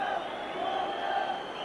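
Loud football crowd filling a stadium during a 1993 League Cup fourth-round match between Everton and Manchester United, a steady dense roar with a commentator's voice over it.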